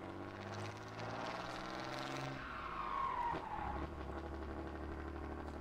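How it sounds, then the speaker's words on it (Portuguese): A truck engine in the Farming Simulator 2013 game roars steadily, with a sputtering, rumbling drone that swells and holds at a constant moderate level throughout, with no talking. "Aí o ronco vai que vai, vai espirrando bastante o caminhão."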